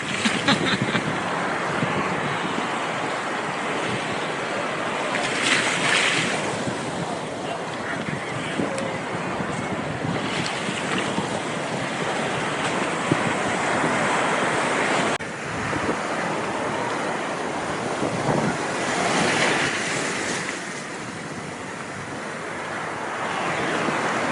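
Ocean waves crash and wash continuously at a surf spot in Istanbul, with heavy wind buffeting the microphone and a few faint distant honks.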